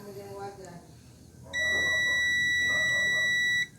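A tester checking a capacitor in an LG TV power adapter gives a steady high electronic beep for about two seconds, then cuts off abruptly, after a short stretch of faint background voice.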